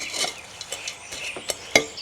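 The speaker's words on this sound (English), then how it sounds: "Just put a layer of twigs in here, and I'll just mix it a little bit." Twigs stirred into potting soil for a monstera give a run of soft, scratchy rustles and light clicks, close by and with no talking.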